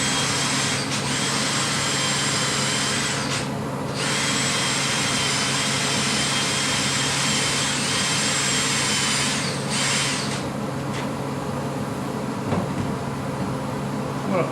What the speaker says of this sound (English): I'll weld that other side.